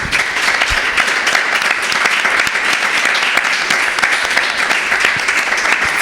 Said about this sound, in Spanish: Os voy a pedir un aplauso por esta clase magistral, por favor.